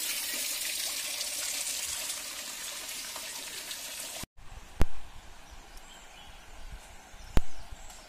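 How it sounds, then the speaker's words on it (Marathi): Water falls and gushes steadily near the Shree Dev Keshavraj temple at Asud. A dense, continuous rush runs for about four seconds, then cuts off abruptly to quieter ambience broken by two sharp knocks. "पाणी पडत आहे"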